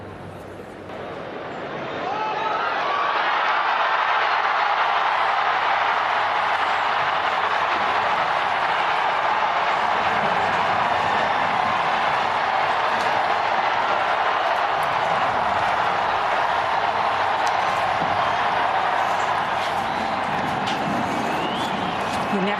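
A huge crowd in St. Peter's Square roars and cheers for a new pope, a dense sustained wash of distant voices holding steady for over twenty seconds.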